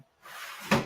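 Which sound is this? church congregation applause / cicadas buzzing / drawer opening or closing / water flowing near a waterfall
drawer opening or closing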